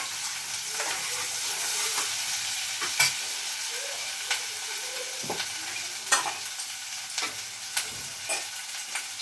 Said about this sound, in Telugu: నేనైతే కొంచెం అల్లం వెల్లిగడ్డ వేస్తున్నాను